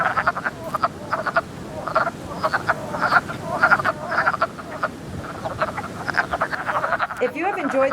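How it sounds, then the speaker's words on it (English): Wood frogs call at a vernal pool at night, a chorus of rapid duck-like clucking croaks repeating in dense overlapping bursts over a soft ambient background, with a brief odd warbling sound near the end. "the first two visitors to come to a vernal pool are 1, the wood frog, and 2, the spotted salamander"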